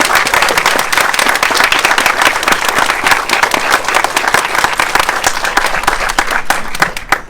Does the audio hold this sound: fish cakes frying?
no